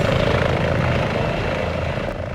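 A loud, continuous helicopter roar with a steady rotor throb and engine drone, close and unbroken, no voices.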